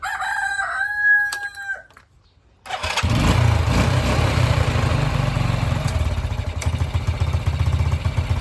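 A rooster crows, then after a short pause an SYM Bonus motorcycle's starter motor cranks and the engine catches, running with a steady, loud rumble to the end.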